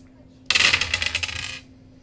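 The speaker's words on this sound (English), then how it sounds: "Alright, rerolling them all." Handful of small plastic Dicemasters dice from the Age of Ultron set rolled together onto a table, a quick burst of rattling clicks lasting about a second, close and fairly loud.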